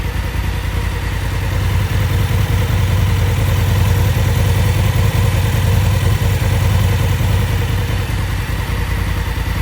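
Steady, close idle of a 2018 Honda Africa Twin motorcycle engine left running after a coolant change, an even continuous throb with no gaps or pauses.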